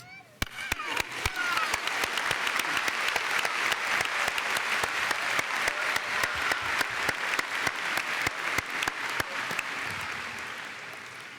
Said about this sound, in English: I'd like you all to take this time to join me in applauding the people that have helped us get here today